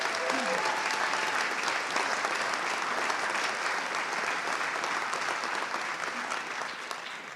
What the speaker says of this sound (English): So a big round of applause for all of our students.